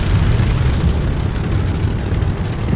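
A Mitsubishi Zero fighter plane's engine drones steadily in the Call of Duty: Vanguard video game, a continuous loud roar with no talk.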